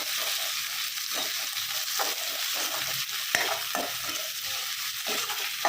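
Masala for quail egg thokku sautés in a pan, a steady hiss of frying oil broken by repeated spatula scrapes and stirs at close range, with no talk over it.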